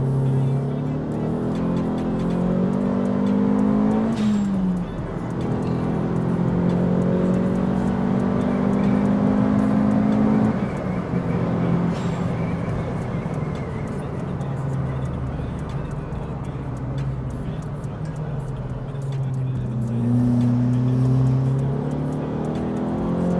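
A Renault Twingo RS turbo, tuned to 346 horsepower, revs and pulls with a droning engine note that rises and falls in pitch, heard from inside the car with people talking over it.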